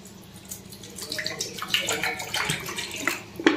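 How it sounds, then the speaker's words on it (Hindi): Cold water is poured into a bowl of chopped onions for a sattu drink, giving a splashing, gurgling stream that builds in strength and holds close and clear, with a faint voice underneath. "चलिए थोड़ा सा इसमें पानी डालते हैं"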